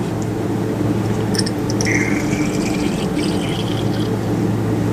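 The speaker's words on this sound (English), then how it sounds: "now he's going to rinse it out with some water" Water poured and swirled to rinse a cuvette on a lab bench: a continuous close trickling and splashing with a few higher drips, alone and steady.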